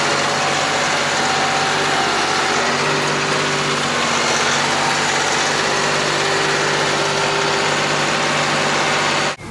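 A Kioti tractor engine runs steadily at a moderate set RPM, a loud, constant mechanical drone heard close up without variation until it drops away at the very end.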